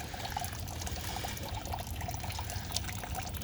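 Water driven by a garden pond pump trickles and splashes steadily out of a bog filter, a continuous close pour of liquid with no talk over it.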